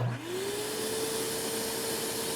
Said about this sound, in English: like this DeWalt wet dry vacuum. The thing I liked about this one when I saw it was this stealth sonic technology